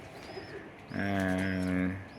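High-flying pigeons at a loft give a single clear, drawn-out coo lasting about a second, close and resonant, with quiet background sounds before and after.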